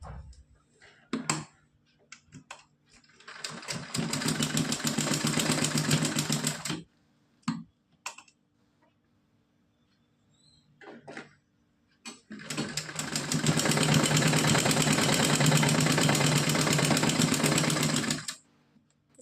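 A sewing machine stitches lace onto a small doll's dress for a Laddu Gopal idol, running in two long steady bursts of rapid needle clatter with short clicks and quiet gaps between them.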